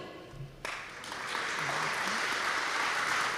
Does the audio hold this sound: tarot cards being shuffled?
no